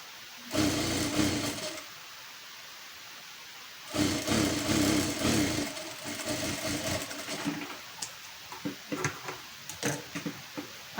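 A sewing machine runs in short stitching bursts while attaching a sleeve lining to the main fabric piece with a quarter-inch seam, two longer runs separated by pauses, then lighter handling clicks and taps.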